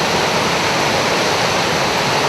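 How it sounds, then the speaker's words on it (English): A waterfall on a cliffside wilderness trail roars as a dense, steady wash of rushing water, loud and continuous with no break or voices. "a cliffside view, and the sounds of a waterfall"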